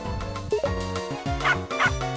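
A dog in the video game Shantae: Risky's Revenge barks repeatedly in short, sharp yips over steady game music.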